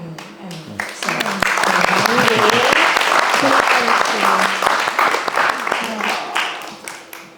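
A crowd gives sustained, dense applause at a conversation event about art and the industry, swelling after a second and fading near the end, with a voice speaking over the clapping.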